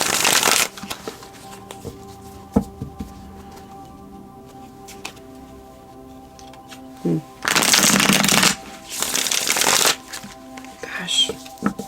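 A deck of tarot cards is shuffled in loud, riffling bursts near the start and again later, with quieter handling noises between them and a voice speaking at times.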